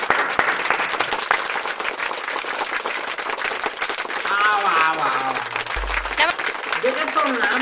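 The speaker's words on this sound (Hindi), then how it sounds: "जोरदार स्वागत करते हुए ओकर मतलब ताली बजाते" Audience applause welcomes a performer at a comedy audition sketch: dense, steady clapping runs throughout, with voices speaking over it.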